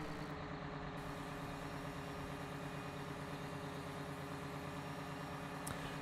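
A Big Bud tractor in Farming Simulator 17 drones with a steady, low engine rumble at an even pitch, faint and alone with no talk over it.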